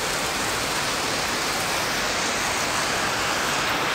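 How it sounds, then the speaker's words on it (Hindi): Heavy rain falls steadily in cold weather near Kedarnath, a dense, unbroken hiss at a constant level with no voices. "बहुत ही शानदार बारिश हो रही है"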